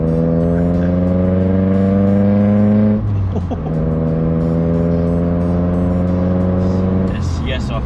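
A stock, rare manual Toyota Sera engine revs hard, its rising harmonic whine climbing, dropping briefly at a shift, then climbing again, loud and close; a voice talks over the engine.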